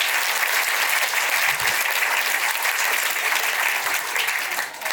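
Comedy festival audience applauding together, a dense, steady wash of clapping filling the room for several seconds before tapering slightly at the end.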